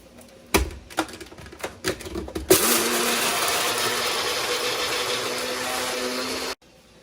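An electric grinder whirls whole masala spices and curry leaves, starting with a few short clattering bursts before settling into a steady loud grinding hum for about four seconds, then cutting off abruptly.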